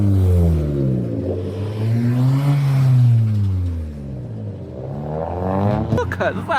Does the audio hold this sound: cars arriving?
yes